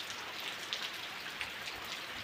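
Heavy monsoon rain pours steadily in a dense, continuous hiss, with close raindrops pattering on surfaces throughout and no voices over it.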